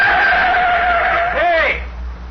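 A car in a radio drama drives onto a field, its engine droning with a rising tire squeal and skid near the end, loud and close.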